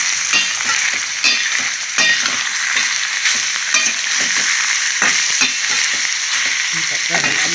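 Sliced bitter gourd with chana dal frying in a pan, a steady bright sizzle with frequent stirring scrapes and clinks throughout, close and loud, with no talking.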